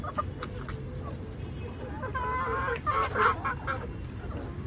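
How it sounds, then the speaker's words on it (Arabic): Chickens cluck and squawk repeatedly over steady background noise, growing a bit louder and busier midway. "اللي عايز يربي فراخ يا ولاد يجي لام جنى."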